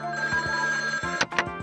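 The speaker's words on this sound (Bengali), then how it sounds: "তোমার মাঝি আবার ফোন করছে।" A telephone rings in a Bengali kids' cartoon, a loud, repeated electronic ring with tonal bursts, clear and close, heard alone without speech.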